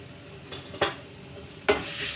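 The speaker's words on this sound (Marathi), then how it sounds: "आपला कांदा चांगला लाल झालेला आहे तर आता आहे ना आपण त्याच्यामध्ये थोडंसं लाल तिखट टाकूया हळद पावडर टाकूया" Onions frying in a pan for bitter gourd sabji with red chili powder and turmeric, stirred in two sharp scraping strokes over a steady low sizzle.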